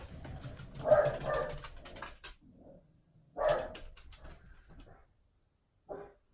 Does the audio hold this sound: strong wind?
no